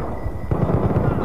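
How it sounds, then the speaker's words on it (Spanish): A sharp, loud gunshot bursts out midway, followed by rumbling battle noise and scattered shots from the video game Battlefield: Bad Company 2. "¡Un gran disparo!"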